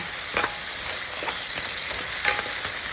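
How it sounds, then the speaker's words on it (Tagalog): Alimasag crab frying in garlic butter in a pan, a loud continuous sizzle with occasional sharper crackles and stirring clinks, close up with no voices. "isunod na natin yung crab o yung alimasag"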